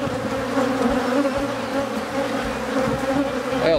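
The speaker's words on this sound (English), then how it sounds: "All these bees right here come off that fence post." Swarm of honeybees buzzing around a fence post during swarm capture outdoors, a dense, loud, continuous hum with individual bees zipping close past.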